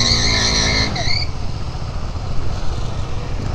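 Tyres of a KTM Duke 390 motorcycle skid on a road, a high squeal with tonal harmonics for about a second, then fading into steady engine and wind roar.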